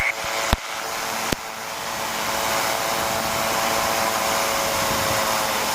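An ultralight aircraft engine roars at full power during takeoff, a loud continuous drone after a couple of sharp clicks at the start.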